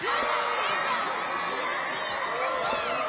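A dense crowd of women cheering and shrieking at a boxing match, a steady loud wall of high-pitched voices with whoops rising throughout.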